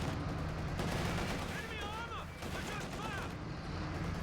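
Machine-gun fire from an IS-2 tank in the Company of Heroes 2 strategy game, a dense continuous rattle of rapid bursts under steady battlefield noise, with faint whistling tones overhead and a voice speaking briefly.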